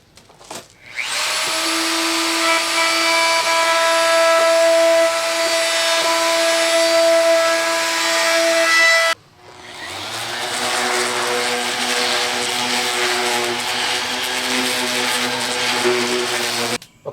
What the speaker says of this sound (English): So I got my router out.